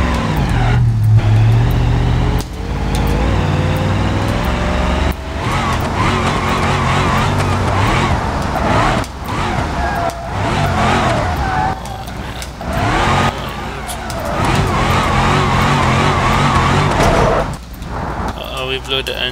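Loud car engine revving hard with tire noise and heavy crash impacts in the BeamNG.drive driving game, as the vehicle slams into a wall, fence and guardrail and the engine is blown; a voice talks over it throughout.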